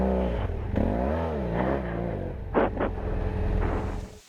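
A motorcycle rides through stinky muck off White Acres Road in Ontario, its engine rising and falling in revving swells with brief splashy bursts and wind buffeting the microphone, no talk.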